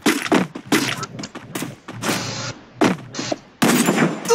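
Gunfire in the Free Fire battle royale game: a string of sharp, loud shots and bursts at irregular spacing, with short gaps between them.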